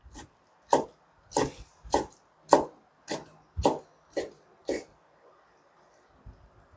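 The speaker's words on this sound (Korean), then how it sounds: "목이버섯 대충 채 썰어 줍니다." A knife cuts wood ear mushrooms into thin strips on a cutting board, giving nine distinct, evenly spaced chopping knocks, close and fairly soft, followed by a short quiet tail.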